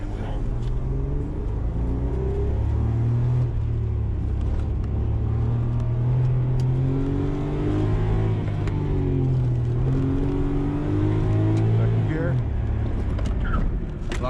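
Interior drone of a 1990s Nissan Skyline R33 GTS4 sedan with an RB25DE engine and automatic transmission on an autocross run, a steady loud engine hum rising and falling in pitch as it accelerates, with a person talking over it.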